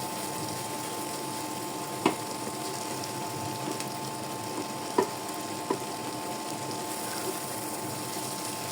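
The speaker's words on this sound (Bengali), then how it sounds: "এখন সামান্য একটু পানি দিয়ে এটা ভাজা ভাজা করবো অনেক সময়" Spices fry quietly in a pan with a little water, a soft continuous sizzle with a few faint clicks of a utensil, close by and without voices.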